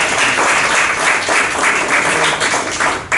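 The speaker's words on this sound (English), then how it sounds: "just round of applause for Gary." Audience applause fills a library community event on reducing, reusing and recycling, a steady dense clapping that holds at full strength for about three seconds with no voices over it.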